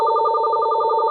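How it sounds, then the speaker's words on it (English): Mobile phone ringing with a steady electronic two-tone trill, pulsing rapidly and evenly at close range, alone for about a second. "No, that's my phone."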